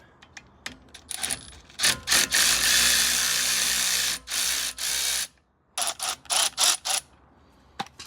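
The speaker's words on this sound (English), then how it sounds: "Milwaukee ratchet there. You can just crack that in." Milwaukee cordless ratchet undoing a brake caliper bolt on an Audi A3, loud whirring bursts of varying length, one sustained run, then several short pulses, with quiet gaps between.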